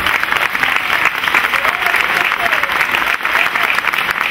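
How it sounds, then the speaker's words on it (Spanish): At a San Isidro festival night, a crowd gives the festival crier a loud, dense round of applause that holds steady throughout, with faint voices mixed into the clapping. "Fuerte aplauso, claro que sí, para nuestro pregonero"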